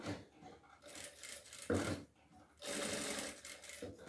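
A sewing machine stitches the back of a fabric doll in quick, steady whirring runs that stop and start, with a short pause midway. It sounds close, at moderate loudness.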